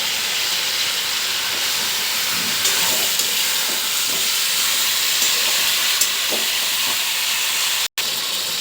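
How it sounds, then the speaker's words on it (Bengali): Green chilli, ginger, garlic and onion paste sautéing for chicken curry gives a steady, loud, close hiss that runs throughout, with a few faint clicks and a brief dropout near the end. "এবার আমি কাঁচা লঙ্কা, আদা, রসুন, পেঁয়াজ বাটাটা দিয়ে দিলাম। আমি একটু ভালো করে কষিয়ে নেব।"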